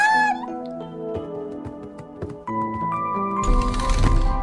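A cat meowing, a few short cries heard over an animated cartoon's music and sound effects, with a busier, noisier burst toward the end.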